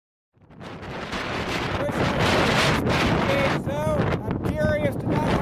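Strong wind gusting across an exposed ridge in the Wind River Range mountains, a loud, roaring buffet against the microphone that rises after a quiet start and stays heavy throughout, with a few faint tonal whistles mixed in.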